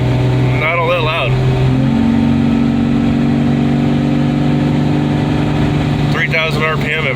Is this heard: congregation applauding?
no